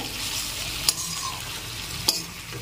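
Chicken for curry being stir-fried in a wok, a steady close sizzle with two sharp clinks of a spoon against the pan, no talk.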